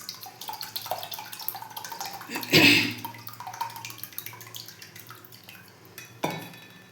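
Water splashes and trickles into a container nearby as it is poured to rinse ragi flour, with one louder pour midway and clinks of a vessel, under a low background murmur.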